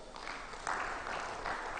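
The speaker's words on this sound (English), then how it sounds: "Can we please give him another round of applause?" Conference audience at a technology week event applauding a guest speaker, a soft, steady patter of many hands heard from a distance at low level.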